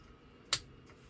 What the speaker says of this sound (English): It's causing that clicking sound.